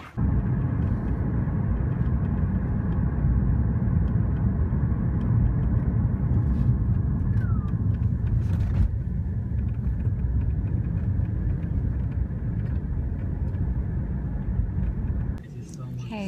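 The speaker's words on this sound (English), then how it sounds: "We're waiting for a car and here it is" A car idles and rolls along a London street, a continuous low engine rumble with traffic noise that holds steady before dropping off near the end.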